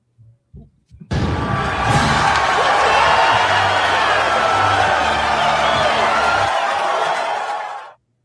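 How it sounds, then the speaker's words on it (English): A crowd cheers and roars for a hero in a Galaxy Quest radio drama, a loud sustained wall of audience noise lasting several seconds after a few brief knocks, then cutting off abruptly. "Jason raises his hands and the crowd cheer him."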